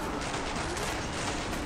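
A nail bomb goes off in the shooter game Killing Floor 2, releasing a dense, continuous crackling burst of rapid blasts that fills the whole moment at moderate loudness.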